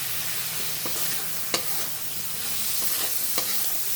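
Potatoes fry in a pan for a spicy, tangy fish bhuna, a soft continuous sizzle with a few sharp scrapes and taps as the pieces are stirred, fairly quiet and without talking.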